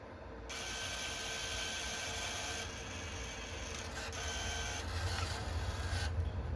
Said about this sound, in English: The system will automatically eject the tape.